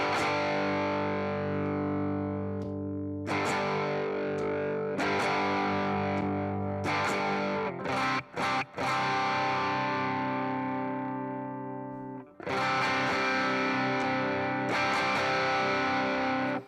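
Electric guitar played through a green overdrive pedal and a Headrush unit, with sustained distorted chords ringing out, a few quick stabs and a brief gap before the chords ring again, close and continuous without talking.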